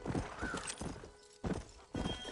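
Horse hooves clip-clop in Red Dead Redemption 2, a close, steady run of hoof beats in short bursts, with a brief pause before the rhythm picks up again.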